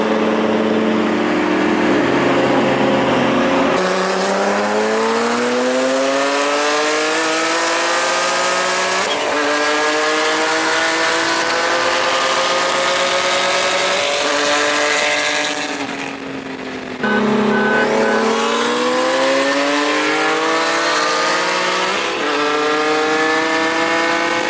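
Turbocharged cars in a drag race, including a big-turbo Nissan 350Z and BMW models, roar loudly with repeated rising revs and gear-change pitch drops, engines straining close by with almost no break in the noise.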